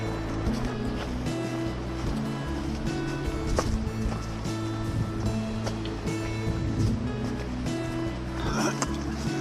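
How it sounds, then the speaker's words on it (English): The Chattooga River flows below the Foothills Trail in South Carolina, a steady, continuous rush of moving water heard from a distance, with no break or change across the whole stretch. "Can hear and see the river."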